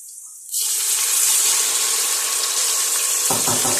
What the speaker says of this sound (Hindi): अब मैं हल्का सा पानी डालने लगी हूँ।